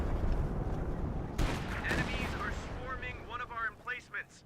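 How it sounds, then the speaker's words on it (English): Siege-barrage artillery shells crash down one after another in Company of Heroes 2, a dense run of booming impacts and rumbling blasts that trails off into scattered, fading battle noise. "That siege barrage lasted for a decent amount of time. A good number of shells dropped from it."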